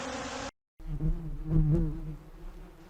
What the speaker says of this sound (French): Ici une autre ruche, avec une entrée propre, des abeilles calmes.